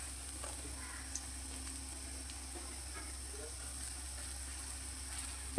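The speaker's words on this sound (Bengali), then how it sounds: "উল্টে পাল্টে বেশ লাল লাল করে বড়া বা পকোড়াগুলো ভেজে নেব।" Bitter gourd leaf pakoras deep frying in hot oil give a steady, soft sizzle and hiss throughout, fairly quiet and even, with no talking.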